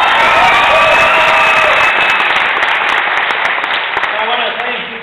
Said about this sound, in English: Enthusiastic crowd.